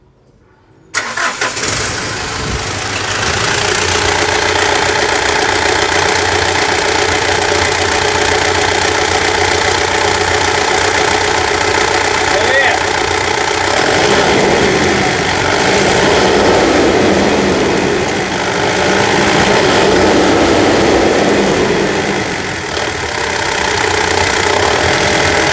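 The engine of a Mitsubishi Triton Savana pickup cranks and fires after a moment of silence, then settles into a loud, steady idle with slight swells in level.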